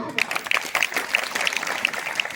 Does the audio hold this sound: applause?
yes